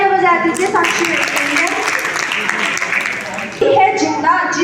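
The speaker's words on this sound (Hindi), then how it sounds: "साक्षी बहन एक बार और तालियां बजा दीजिए" A college audience at a National Girl Child Day event applauds for Sakshi, a burst of clapping that swells and holds while someone speaks over it.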